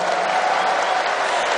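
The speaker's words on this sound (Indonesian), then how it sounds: "Boleh kasih tepuk tangan." Audience applause at a PDI Perjuangan party gathering in Central Java, a dense, even wash of many hands clapping at steady loudness throughout a short burst.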